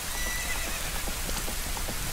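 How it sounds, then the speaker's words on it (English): A white horse whinnies in The Legend of Zelda: Ocarina of Time over a steady hiss while hooves clip-clop in a quick, even rhythm. "A white horse"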